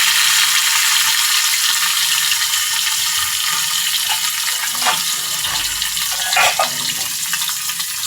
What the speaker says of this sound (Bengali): তো প্রথমে আমি তেলাপিয়া মাছগুলোকে ভেজে নেব।